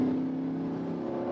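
A car accelerates on the Nürburgring track, its engine holding a steady, loud drone with a strong low tone that stays even throughout.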